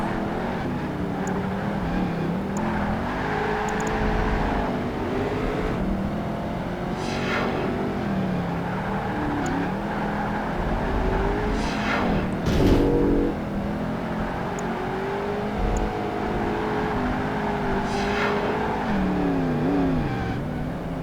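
Ford Mustang engine droning steadily while racing in PGR2 (Project Gotham Racing 2), with rising and falling revs through gear changes and occasional sharp bursts, continuous and close, no talking.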